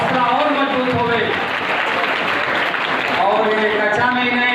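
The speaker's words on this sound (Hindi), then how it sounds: "एक बार जोरदार ताली दीजिए इनके लिए, इन नौजवानों के लिए" An audience claps steadily for students at a school's annual exam results ceremony, a sustained broadband patter while someone speaks loudly over it.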